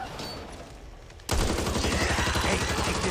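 Automatic gunfire in the zombie shooter Back 4 Blood bursts in abruptly after a quieter stretch, then continues as a loud, dense, rapid volley to the end.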